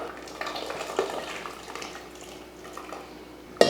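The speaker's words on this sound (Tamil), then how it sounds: "இப்போ இதில் பருப்பு ஊற்றிடலாம்" Cooked dal is poured into simmering sambar with vegetables, a soft wet glugging and splashing with light clinks against the pot, ending in a sharp knock.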